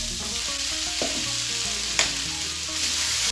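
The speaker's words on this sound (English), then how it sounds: "We had a good dry fry." Meat dry frying in a pan gives off a steady, dense sizzle with occasional stirring scrapes and one sharp clack, heard close and without talk.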